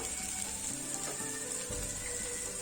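Sliced potatoes in light oil on a hot dosa tawa give off a soft, steady sizzle, with a faint scrape of utensils.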